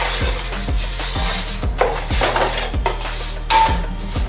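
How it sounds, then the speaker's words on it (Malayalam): Already-roasted vermicelli is lightly roasted again in a pan for payasam. Steady, rhythmic scraping strokes of stirring against the pan repeat about twice a second, loud and close, with no talking. "ഇതിപ്പോൾ ഓൾറെഡി വറുത്ത സേമിയാണ്, എന്നാലും ചെറുതായി ഒന്ന് വറുത്തെടുക്കുന്നുണ്ട്."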